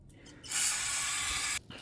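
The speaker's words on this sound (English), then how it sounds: "Spray it down some more." One short, steady hiss of aerosol brake cleaner spraying onto a car's brake parts nearby, lasting about a second before cutting off.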